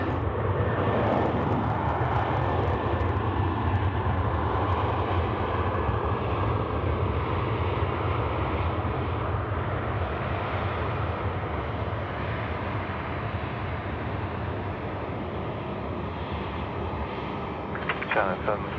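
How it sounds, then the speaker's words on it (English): A China Southern airliner lines up for takeoff on runway 16 right at Sydney Airport at night, its jet engines a steady, loud roar throughout while someone talks over it. "China Southern 302 now lining up for takeoff there, 16 right."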